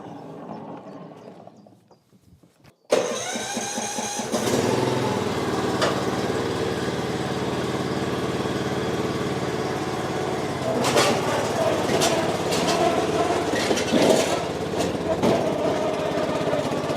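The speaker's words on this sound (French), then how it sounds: "Voilà, c'est mon nouveau tracteur." Newly acquired farm tractor engine cranking and catching after a quiet start, then settling into a steady, close, loud running drone with some mechanical clatter.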